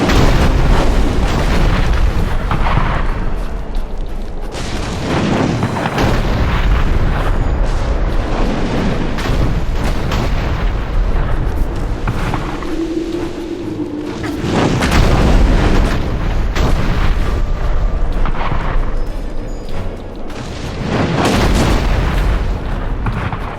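Artillery cannon fire from Azunite gunners in the Dungeon Siege 3 video game: loud, repeated booms and blasts that roll over one another almost continuously, with no talking.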